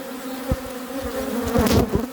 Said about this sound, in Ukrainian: Бджоли багато